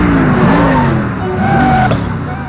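Car engine revving loudly in a film scene, a rough close roar with the pitch bending up and down, steady and continuous throughout.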